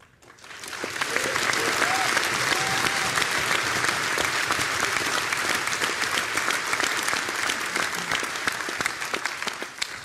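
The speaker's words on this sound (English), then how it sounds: "we're gonna kill this fucking country club clap thing that keeps fucking happening" An audience at a conference session claps together in sustained, dense applause that swells in within the first second and holds steadily for several seconds, loud and filling the room.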